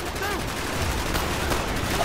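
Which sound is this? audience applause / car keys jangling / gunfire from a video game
gunfire from a video game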